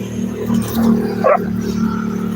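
A dog barks at a passing motorcycle in a short burst over its steady low engine rumble, the barking close and fairly loud.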